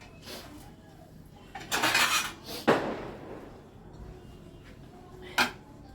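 A lid goes over a dish of soaking petha, ash gourd in lime water, with a couple of sharp metallic clanks and clinks of pots and utensils in a quiet kitchen, close and fairly soft.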